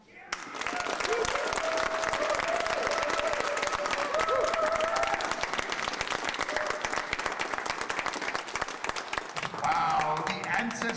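Sustained audience applause and cheering after a poetry reading, dense and steady for about ten seconds with voices calling out over the clapping before it thins near the end.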